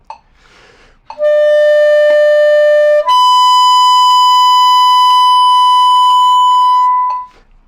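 A sustained clarinet tone holds one pitch, then slides via half-hole up higher and holds steady for several seconds before stopping, loud and alone.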